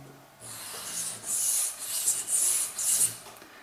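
Knife blade drawn across a Spyderco bench stone, five quiet rasping strokes in a steady rhythm, close up with no talking.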